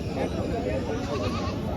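A goat bleats amid the crowd noise of a busy livestock market, with its calls partly buried under the dense chatter of many voices around it.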